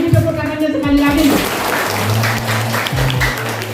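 School audience at a junior high school gathering claps, a dense rush of applause rising after a voice and mingled with talk and a low tonal hum.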